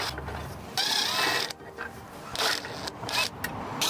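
Small bolts on a BMW slam panel being loosened with a ratchet, giving close, loud bursts of rapid clicking that start and stop several times, with no talking.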